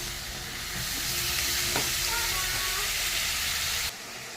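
A whole catla fish frying in hot oil, a loud, dense, continuous sizzle and hiss close up that cuts off abruptly near the end.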